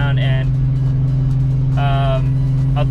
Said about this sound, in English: I'll tease you guys a little with an exhaust clip